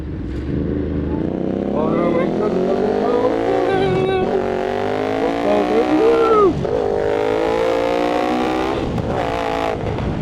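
A Ducati Monster 937 motorcycle riding through Los Angeles traffic, its engine revving and rising in pitch through repeated throttle pulls and shifts, loud and close, with someone talking briefly.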